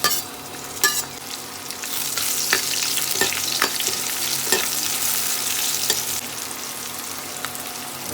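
Onion, dried red chillies and whole cumin seeds sizzle steadily in hot oil, with a few sharp clicks of a spoon stirring the pan at intervals; no one speaks.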